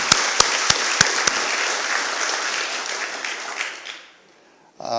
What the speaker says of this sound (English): I'd like to give them a round of applause because they're just such a good job